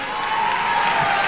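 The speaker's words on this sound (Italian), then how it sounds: "Senti che applauso." An audience applauds steadily as the pianist Davide Pistoni is introduced at a live show, a dense, even wash of many hands clapping that fills the whole moment without letting up.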